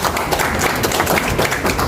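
An audience claps at a gathering about dangdut music, a dense continuous patter of many hands filling the short moment.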